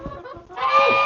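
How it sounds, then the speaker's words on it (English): A peacock and a chicken fight in a coop, giving short, loud honking squawks: a rough burst, a brief pause, then a sustained harsh cry close by. "my peacock is getting jumped on by a chicken."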